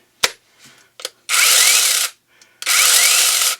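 A 4-inch InoKraft battery mini chainsaw with a brushless motor gives a few short clicks, then two loud, steady whirring runs of about a second each, with a brief ramp-up and a stop between them.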